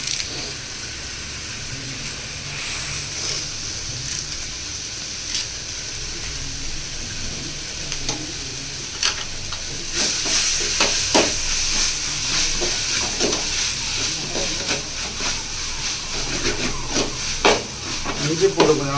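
Ginger, garlic and curry leaves fry in a pan with a steady, close sizzle, punctuated by repeated scraping stirs and clinks that grow busier and louder toward the end; a voice talks intermittently.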